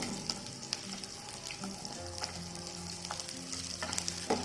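Onions and garlic sizzle steadily in hot oil in a pan, a continuous close frying hiss with occasional stirring clicks and scrapes.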